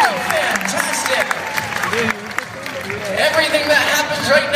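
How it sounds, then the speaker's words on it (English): Applause from a theatre audience at a live hypnosis stage show, a dense rattle of clapping mixed with crowd murmur and a few cheers, steady and fairly loud throughout. "them a great round of applause. Absolutely fantastic."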